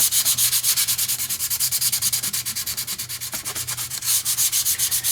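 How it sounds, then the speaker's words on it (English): Rapid back-and-forth sanding with 100 grit sandpaper on the lower half of a model's secondary hull, a close, steady scratchy rhythm of short strokes, alone without talk. "start sanding down the bottom half here using my 100 grit"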